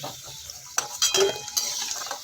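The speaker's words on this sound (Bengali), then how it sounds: "গ্যাসের আঁচটাকে মিডিয়ামে করে দিয়ে আলুটাকে লালচে করে ভেজে নেব" Oil sizzles and hisses steadily in a pan as potatoes fry over a medium gas flame, while metal utensils clatter and scrape against it in a few sharp knocks.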